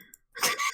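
A single short, harsh cough, close by, with a brief quiet moment just before it.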